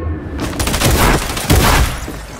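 Burst SMG fire in a video game, a few quick clusters of sharp, loud shots separated by short pauses.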